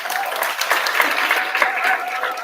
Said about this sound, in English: Let's give Kyla another round of applause.